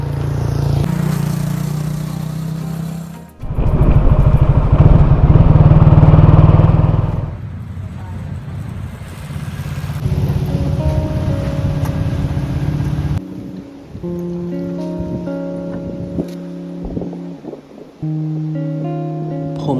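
A vehicle drives over a hill on Koh Samui, its engine humming and rising into a louder roar as it climbs, then settling back to a steady drone, recorded close from on board.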